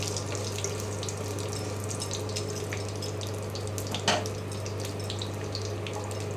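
Cumin seeds dropped into hot oil for a fish-head moong dal, giving a steady close crackling sizzle over a constant low hum, with a small louder spatter partway through.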